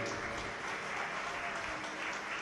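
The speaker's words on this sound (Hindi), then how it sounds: "एक बार आपके लिए भी जोरदार ताली बजाकर साधुवाद।" Audience clapping at a live Shiv Mahapuran religious discourse in Lucknow, a steady dense wash of applause from a large crowd, moderately loud and continuous throughout with no voice on top.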